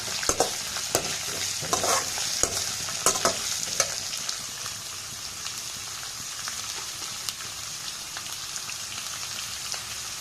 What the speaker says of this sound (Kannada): ಈಗ ಸ್ಟವನ್ನು ಜಾಸ್ತಿ ಮಾಡಿ ಎಲ್ಲ ಮಿಕ್ಸ್ ಮಾಡೋಣ ಒಂದ್ಸಲ